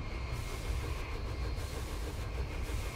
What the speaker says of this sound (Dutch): komt er een trein met 150 voorbij